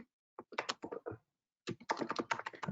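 Code being typed on a computer keyboard in quick, irregular bursts of crisp key clicks, with a brief pause before a longer, faster run of keystrokes, heard up close and alone.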